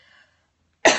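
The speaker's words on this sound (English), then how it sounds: "talking this much is making me cough" A single short, sharp cough comes right at the end of a quiet moment, close and fairly loud, after a faint trace of a voice.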